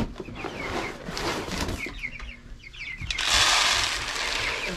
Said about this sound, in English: This is our third batch of meat birds.